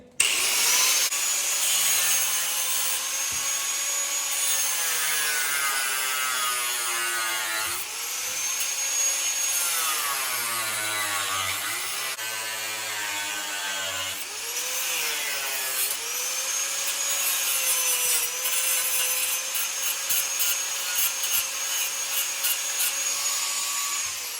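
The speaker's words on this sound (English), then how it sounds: "We're just gonna grind the heads off so we can get this fan off without damaging it." An angle grinder cuts the heads off rusted bolts holding a radiator fan on a 1995–2000 Honda Civic, a loud continuous whine that rises and falls in pitch as the disc bites and eases off, heard alone.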